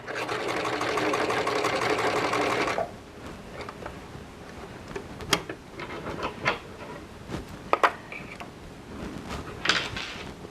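Sewing machine stitching over a seam on a princess-seamed western show jacket, a steady loud whirring run for about three seconds, then stopping, followed by scattered handling clicks and taps nearby.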